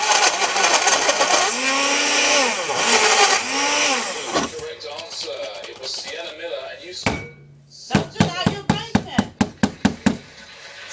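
Blender whirring through a strawberry and pineapple smoothie with Volvic Touch of Strawberry water, motor pitch rising and dipping over the first seconds, then stopping, followed by a series of sharp knocks and taps; a voice speaks during the clip.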